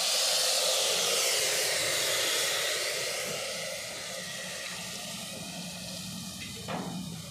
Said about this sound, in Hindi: ये देखो पानी डाल रही हूँ